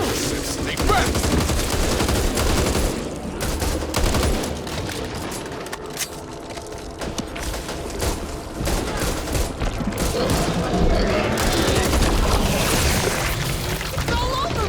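Sustained, dense gunfire fills a Back 4 Blood video game firefight, heavy automatic bursts rattling almost without pause, close and loud, while a panicked voice shouts over it.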